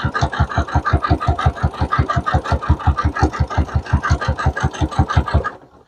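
A domestic sewing machine runs in a steady, fast rhythmic chatter while stitching a folded fabric tube for a jelly roll rug, close and loud, with no talk, then stops at the end.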